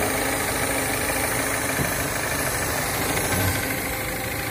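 A car engine idles after an ECU repair, a steady, even rumble that stays loud and close throughout with no talk over it.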